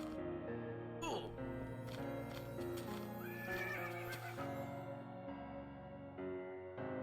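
Horse neighs and whinnies with clip-clopping hooves in the Minecraft Infdev game, one rising whinny early and further neighs midway, steady hoofbeats under a continuous tonal game background.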